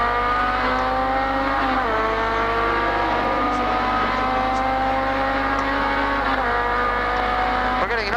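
A small race car's engine drones loud and close through the 1980 Hardie-Ferodo Bathurst 1000, its pitch rising and dipping with gear changes and throttle over several seconds.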